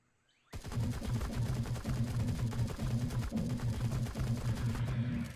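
Assault rifle gunfire in a video game: after a brief quiet start, a loud, sustained rapid-fire burst of shots with heavy recoil runs steadily to the end.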